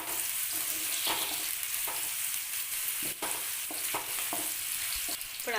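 Onions fry in hot oil for noodles, giving a continuous bright sizzle broken by regular stirring scrapes, close and fairly loud, with no talking.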